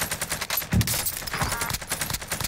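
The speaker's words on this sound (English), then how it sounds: "Taking direct fire." AK rifle fire in a first-person shooter game, the Bullfrog class loadout, with repeated sharp gunshots in quick bursts, some close and loud, layered with other distant shots and game ambience.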